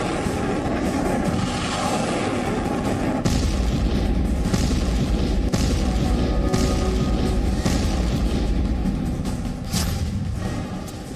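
Heavy booms and explosions from aerial bombardment during Russia's assault on Ukraine near Kyiv, a loud continuous rumbling barrage with several sharper blasts standing out from the roar.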